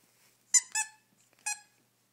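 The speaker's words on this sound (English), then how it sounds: "What about the ducky? You knocked your ducky out, Stanley." A dog squeezes a rubber ducky toy, giving three sharp, high squeaks, two close together and then one more, loud and near against near silence.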